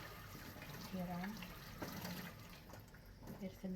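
Running water splashes steadily, as if poured over plants, with a voice speaking briefly in the middle.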